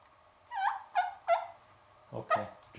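Several soft, rolling trills made by a human mouth imitating a turkey's purr, in short separate bursts, quiet and close.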